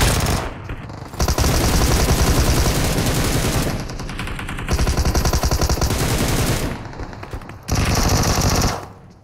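Sustained automatic gunfire in BGMI, the battle royale mobile game, played at 90 FPS: dense rapid bursts rattle in three long volleys separated by brief gaps, loud and close with no talk over them.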